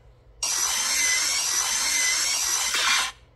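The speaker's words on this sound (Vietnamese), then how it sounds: "đây đang có một cái máy khoan nhá mà muốn dùng để cắt tôn đấy thì dùng cái bộ chuyển đổi này nhá" An electric drill fitted with a sheet-metal cutting adapter cuts corrugated metal roofing sheet, a loud, high-pitched whining grind that starts abruptly, holds steady for nearly three seconds, then stops, with no talk over it.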